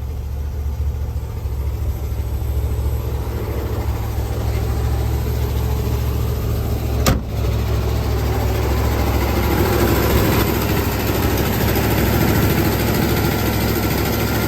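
A 1975 Lincoln Continental's carbureted engine idles roughly with a deep, uneven low rumble, continuous and close, with one brief click partway through.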